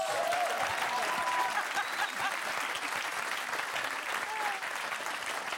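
A studio audience on a Dutch television music show applauds a guest in a sustained, even roar of clapping, with faint tonal hums and a brief voice briefly surfacing.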